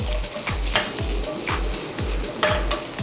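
Onions stir-fry in a pan for a stir-fried jjamppong-style pasta under a constant close sizzle, with a spatula scraping the pan in a regular rhythm roughly twice a second.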